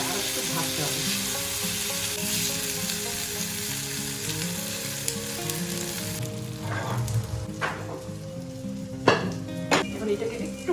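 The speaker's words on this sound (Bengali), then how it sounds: "এটা আর একটু ভাজতে হবে।" Food sizzles and fries steadily in a pot for an Indian one-pot meal, a constant crackling hiss with occasional stirring knocks and utensil clinks toward the end.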